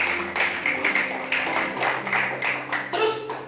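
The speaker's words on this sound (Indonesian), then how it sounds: "berikan tepuk tangan bagi Tuhan" Congregation clapping during a church sermon, a steady patter of many hands with faint sustained low tones from music or an organ underneath, moderately loud and continuous throughout.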